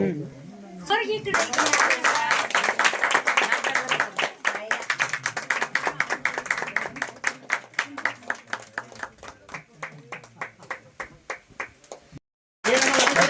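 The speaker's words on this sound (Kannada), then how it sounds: "ಚಪ್ಪಾಳೆ ತಟ್ಟಿ ಹ್ಯಾಪಿ ರಿಟೈರ್ಮೆಂಟ್ ಎಂದು ಹೇಳಲಾಯಿತು" A group applauding at a retirement celebration, with rhythmic, fairly close claps that gradually thin and slow before stopping, with voices heard early on.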